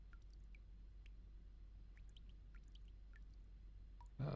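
Water drips in the video game Spacebourne 2, with scattered small plinks at irregular intervals over a low steady hum, faint, and a louder thump right at the end.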